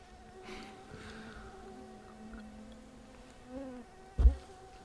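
Insects buzz faintly around a fly fisher outdoors, a thin steady whine under a quiet open-air background, with a brief louder knock near the end.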